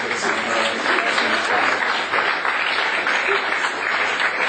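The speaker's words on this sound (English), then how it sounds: "So another round of applause to you for that" An audience at a company conference applauds, a loud, sustained wash of many hands clapping close by, steady from start to finish.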